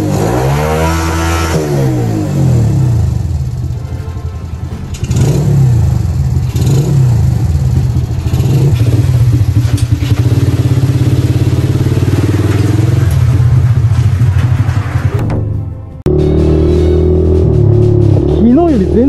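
An old off-road buggy, left outdoors in the rain for ten years and bought cheaply at auction, cranks and starts, then its small engine runs loud and close with repeated revving, a brief cut-out near the end, and someone talking over it.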